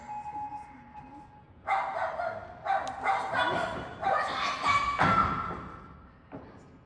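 A dog barks and yips on a high-school theatre stage, several sharp close barks in bursts with whimpering touches, while people talk around them.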